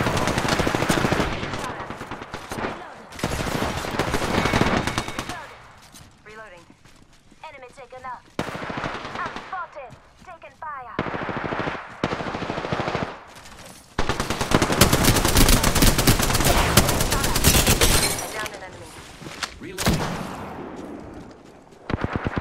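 Machine gun fire in a squad shooter video game crackles in loud rapid bursts separated by short pauses, with occasional voices heard between the volleys.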